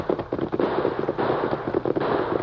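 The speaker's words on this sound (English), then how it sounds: "Gunfire." Gunfire sound effect from an old-time Western radio drama. A quick, rough run of muffled pops and cracks overlaps under a noisy, lo-fi broadcast hiss.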